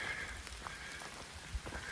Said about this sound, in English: Still drizzly, not much hitting us under the canopy.